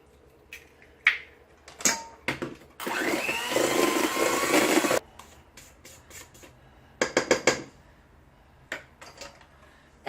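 An electric hand mixer beats an egg into lemon bundt cake batter in one loud continuous whirring burst lasting a couple of seconds, set between quiet clicks and taps of bowl and utensils.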